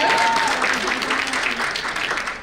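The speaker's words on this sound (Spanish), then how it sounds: "un aplauso cordial para ellos." A crowd claps warmly in a short burst of applause, with voices mixed in as the clapping gradually thins out.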